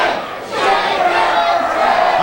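A wrestling crowd roars loudly and steadily for Chris Masters, a dense chanting cheer that surges after a brief dip, with no clear talk over it.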